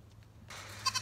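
A pregnant doe goat being readied for kidding bleats faintly in a barn setting, a brief quiet call arriving after a near-silent start, with no one speaking.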